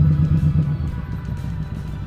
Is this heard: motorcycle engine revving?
yes